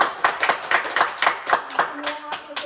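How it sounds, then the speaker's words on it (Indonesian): A classroom of students claps for a classmate during a micro-teaching lesson, quick rhythmic claps in near unison, about four per second, with a brief voice underneath. "Beri tepuk tangan untuk dia."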